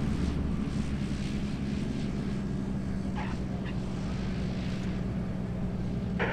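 A Beechcraft Bonanza light aircraft with white tip tanks rolls out after landing at EAA AirVenture Oshkosh, its propeller engine droning low and steady at moderate distance with some wind noise.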